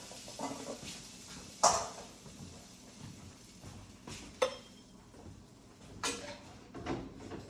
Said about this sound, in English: Dump that straight into our pan.